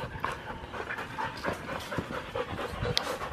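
Dogs panting close by, a fast steady rhythm of breathy huffs with small whimpery tones over an indoor background.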